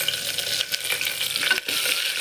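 Curry leaves and spices sizzle in hot oil in a pan while being stirred. The crackling fry is close and moderately loud, broken by a few scraping stirs with no voices.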